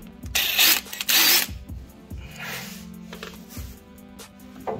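A ratchet wrench works on a Honda Civic during a disk brake install, giving several short bursts of rapid metallic clicking mixed with clunks of tools and parts in a garage.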